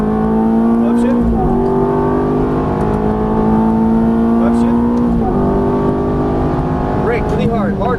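A Ferrari F430 engine revs hard and climbs through gears on track, loud and close, with rising pitch broken by quick shift dips and a voice giving driving instructions over it.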